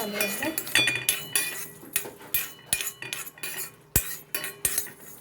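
A metal spoon stirring fenugreek seeds in a pan while making mango pickle, giving a series of irregular scraping clinks and sharp taps against the pan, close and fairly loud.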